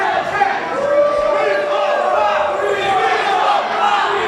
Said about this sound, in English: And you can hear right here the hometown crowd showing their love.